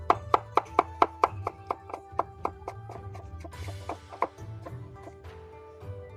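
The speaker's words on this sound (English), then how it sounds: "Place the cucumber skin side up to help maintain a clean and even cut." A knife slicing a cucumber skin side up on a cutting board gives a steady run of crisp, close chops, fast and even at first, then slower and more spaced, with no voice over them.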